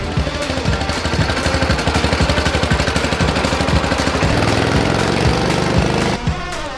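Wheel Horse 753 garden tractor engine running at close range, a loud rapid chugging putter that holds steady for several seconds before briefly faltering near the end.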